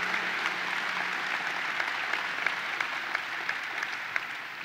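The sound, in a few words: applause for the Junior Islanders and Junior Sabres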